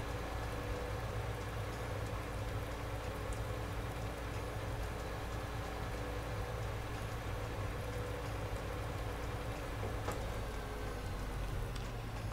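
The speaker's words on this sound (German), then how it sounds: "Heute haben wir aktuell wieder Regen" Steady rain falls in the farming game Landwirtschafts-Simulator 19, a constant soft hiss of drops pattering on surfaces with a faint low hum beneath, unchanging throughout.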